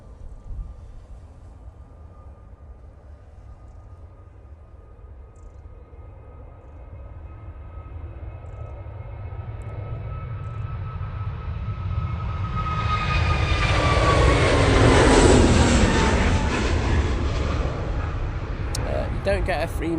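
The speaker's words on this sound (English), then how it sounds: "here we go with this Jet2 off to Tenerife" A Jet2 passenger jet takes off from Manchester Airport bound for Tenerife, its engine roar building from a distant whine to a loud rushing peak before easing slightly, with people talking over it.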